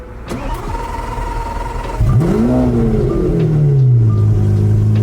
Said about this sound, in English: I love the cold start. It sounds amazing.